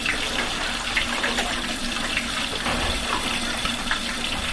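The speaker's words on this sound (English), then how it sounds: "this is about 3 cups of water, just plain regular water, tap water, nothing fancy." Plain tap water, about three cups, is poured into a pot while cooking jollof rice. It makes a steady, continuous gushing splash at close range with no talking.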